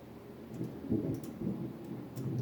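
Low rolling thunder rumbles before rain, a couple of soft booming swells that are faint and distant, with a light rainy hiss underneath.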